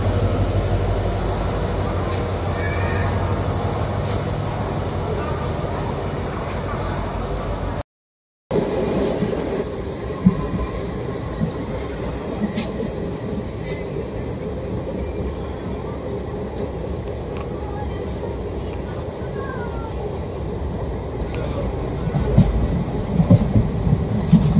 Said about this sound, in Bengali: এখন ট্রেনটা ঢুকছে।